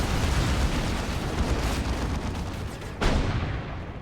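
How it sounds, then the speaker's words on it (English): A Predator tank firing during a Dawn of War 2 battle, with a dense, continuous roar of gunfire and explosions that holds steady throughout, then a sharper blast near the end. "Here comes a Predator tank."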